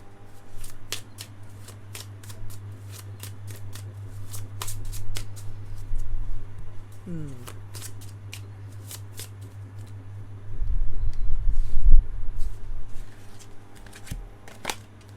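Earth Magic Oracle cards being shuffled by hand close up, with repeated crisp riffles and slaps in quick bursts over a steady low hum and no talking.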